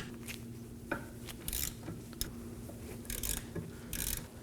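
A 14mm socket ratchet cracking loose the rear brake caliper bracket bolts on a 2016-2020 Kia Sorento, with close, quiet metallic clicks and a few sharper bursts of ratcheting over a low steady hum.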